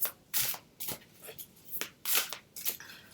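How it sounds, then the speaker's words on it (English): Tarot cards being shuffled in quick bursts, several riffling swishes with brief pauses between them, close up. "So you're going to shuffle the whole deck."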